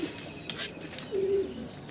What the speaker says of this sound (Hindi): एक कबूतर उतर रहा है ये देखिए